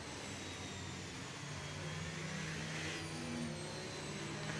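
Formula 1 car engine from an F1 racing video game, a steady droning roar with a sustained whine, holding even and fairly loud throughout without speech.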